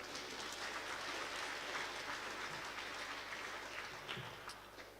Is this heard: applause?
yes